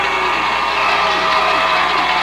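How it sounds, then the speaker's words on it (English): A high school football crowd at a 2002 Johnstown Monroe vs Monroe Central first-round playoff game roars steadily, a loud, sustained wall of cheering and whooping from the stands. "Crowd on its feet"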